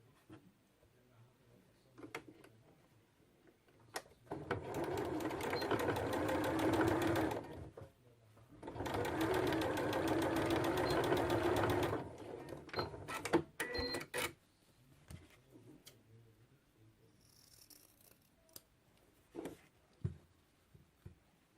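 Sewing machine stitching a seam on fabric slippers, running in two sustained bursts of fast rhythmic needle clatter separated by a short pause, with scattered handling clicks and quiet moments before and after.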